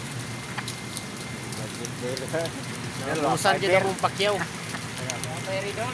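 Rain falling on a tower building under construction makes a steady hiss and patter behind someone talking, with other voices and some laughter joining midway.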